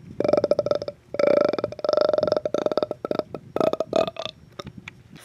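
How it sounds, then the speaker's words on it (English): A long, throaty burp rolls out in several loud, drawn-out bursts with short gaps between them, close and alone with no other sounds. "That sounded like a burp."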